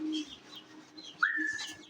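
Small birds chirp in brief, high calls, with one clear rising chirp partway through over a faint background hum.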